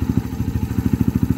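Motorcycle with a slash-cut exhaust freshly repacked with fibreglass packing, idling close by with a loud, steady, rapid thumping pulse and no voices.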